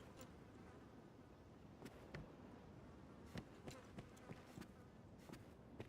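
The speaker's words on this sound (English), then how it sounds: "Just the constant fly buzzing sound in here." A fly in a video game buzzes constantly and faintly in the background, with scattered soft clicks and taps over the low hum.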